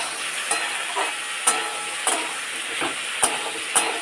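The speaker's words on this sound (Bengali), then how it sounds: "এবারে পটলটা ভাজা হোক এখানে" Sliced pointed gourd fries in oil in a pan, giving a steady, close sizzle with sharp clacks at irregular intervals as a spatula stirs and turns the pieces.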